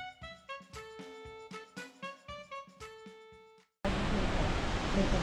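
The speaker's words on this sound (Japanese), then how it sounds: "100メートルくらいにわたって細い滝がいくつも流れてます。" Shiraito Falls in Fujinomiya, many thin cascades spread across about 100 metres, gives a loud, steady, broadband roar that cuts in abruptly after a stretch of piano-like music and continues to the end.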